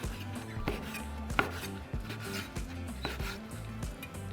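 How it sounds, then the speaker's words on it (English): A knife taps and thuds repeatedly against a cutting board while chopping chiles into strips, an irregular chopping rhythm, quiet and close. "the 2 chiles, we're just going to cut them into strips"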